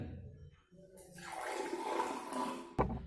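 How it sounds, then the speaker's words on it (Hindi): Water poured into a glass during a simple classroom science demonstration, a steady splashing rush lasting a couple of seconds before ending with a short clink. "दूसरे गिलास में हम थोड़ा पानी डालेंगे।"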